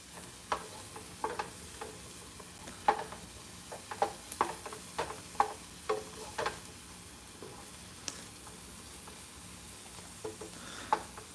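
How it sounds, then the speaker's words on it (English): Onions being caramelized for beef stroganoff sizzle faintly in a pan while a spoon scrapes and stirs, giving irregular close clicks and taps over a low, quiet frying hiss. "We're gonna get our onions all nice and caramelized."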